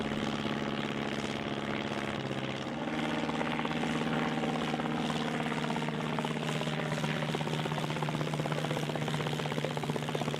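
A light autogyro flies low with its rotor and propeller engine droning steadily, making a continuous throbbing hum with a slight shift in pitch partway through, heard alone without talk.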